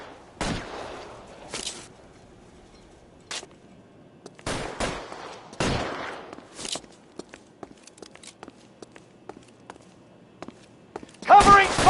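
Gunfire in the video game Noire: scattered sharp shots and short bursts spaced irregularly, some loud and close, others lighter, with a denser volley at the end over a quiet background.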